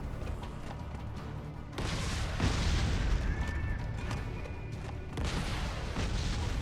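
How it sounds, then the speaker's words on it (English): Rocket launcher shots boom and explode in Metal Gear Rising: Revengeance, heavy blasts landing in bursts around the two-second and five-second marks over a rumbling action backdrop. "it's probably a good idea to just use a rocket launcher and take this thing out from afar"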